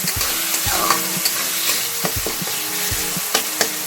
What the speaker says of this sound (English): saute it till golden brown